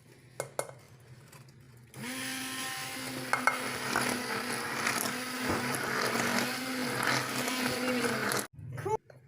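Electric mixer beating marble cake batter, switching on after a few knocks and whirring steadily and loudly for several seconds before cutting off, a voice talking over it.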